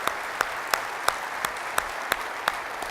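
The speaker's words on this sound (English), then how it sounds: "let's give them a round of applause" Military audience applauding, a steady wash of many hands with a few sharp, evenly spaced louder claps punctuating it, moderately close.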